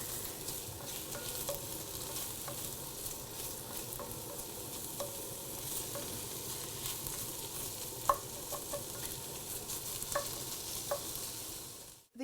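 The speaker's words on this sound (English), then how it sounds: "The onion's now got to the point where it's half cooked, it's slippery, it's taking colour" Onions fry in a pot for a squid, chorizo and chickpea cocido, giving a steady close sizzle with occasional light stirring clicks, no voices, until it cuts off at the end.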